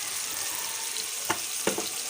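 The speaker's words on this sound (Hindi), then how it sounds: "मसाले की 3 से 4 मिनट तक लगातार इसकी बुनाई करूँगी" Beef keema frying in a pan with red chilli, salt and turmeric, a steady close sizzle with two or three short scraping clatters as it is stirred, no talking.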